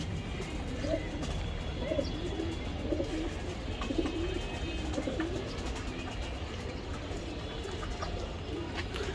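Racer pigeons coo in soft repeated low rolls among quieter chirps, close by, steady throughout with no talk.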